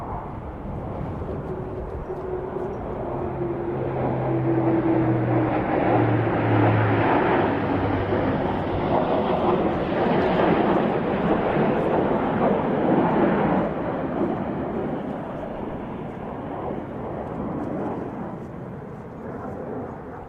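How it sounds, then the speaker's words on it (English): Three German Air Force aircraft make a topside pass over an airshow airfield, a broad jet roar swelling from the distance to a loud peak midway, then fading slowly, with a gliding engine whine heard early. "Here we have the trio from the German Air Force with a topside pass."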